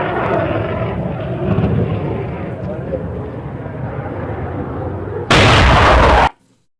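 An AI-generated fighter jet battle sound effect made with Sony Woosh, with a rumbling roar, bursts of gunfire and blasts, ending in a loud, sharp jet whoosh that cuts off abruptly.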